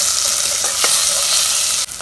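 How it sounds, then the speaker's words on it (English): Onion, chilies and tomatoes fry loudly in a pan for a Goan oyster xacuti, a dense, close sizzle with a brief stirring scrape near the end. "Now add in the chilies and the tomatoes and"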